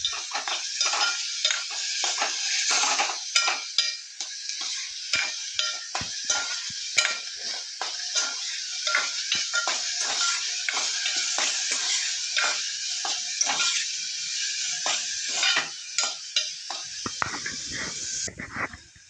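Taro root stew being stirred in a pan: steady frying hiss broken by repeated, rhythmic scrapes of a spoon against the pan, fairly close and continuous.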